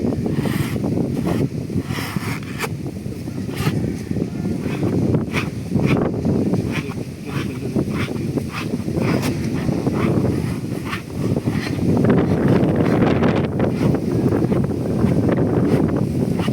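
Strong wind buffeting the microphone in continuous gusty rumbles, with faint scattered clicks and splashing underneath.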